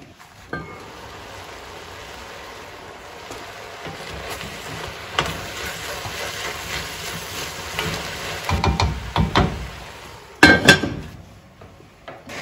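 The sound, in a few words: vegetables sautéing in a pan for pumpkin soup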